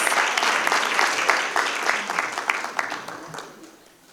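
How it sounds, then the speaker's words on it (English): Loud applause from an audience honouring students and their sponsors at a school district board of trustees meeting, dense clapping filling the room before tapering off at the end. "Let's give these young people a huge round of applause."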